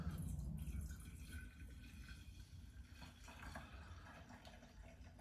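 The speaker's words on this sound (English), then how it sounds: "I'm going to just carefully pour this in" Liquid wax base poured carefully from a container, a soft continuous trickling and splashing of liquid heard close and fairly quiet, with no talking.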